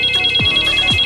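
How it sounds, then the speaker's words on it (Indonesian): Telephone ringing in a steady electronic tone with two short repeated bursts, close and clear with no voices. "lalu tiba-tiba telepon berdering"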